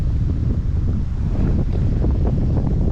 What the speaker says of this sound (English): this wind is shit